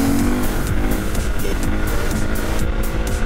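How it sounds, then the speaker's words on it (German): A KTM EXC 450 dirt bike with an Akrapovič exhaust and no dB-killer revs hard during a small wheelie, a loud, close, continuous engine roar. "Und wir starten direkt erstmal rein mit dem ersten kleinen Wheelie hier"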